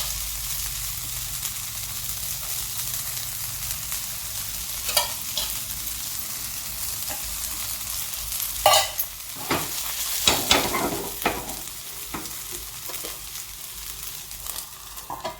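Poha snack frying in oil in a pan gives a steady sizzling hiss, broken by louder bursts of crackle and stirring clatter as more oil is added.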